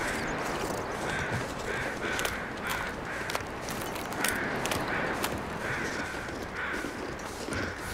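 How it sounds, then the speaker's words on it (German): Crows caw repeatedly in the video game The Long Dark, a series of harsh calls at an uneven rhythm over a steady noisy outdoor background. "da oben gibt es eh genug Krähen"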